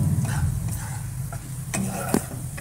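Garlic frying in oil in a pan, a close, low sizzle with occasional light ticks and scrapes of stirring.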